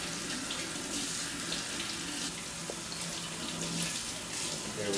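Cold tap water runs steadily into a sink as roasted peppers are peeled under the stream, a continuous close splashing rush with no talking.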